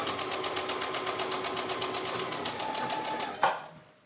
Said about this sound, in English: And I sew my pleats down a couple inches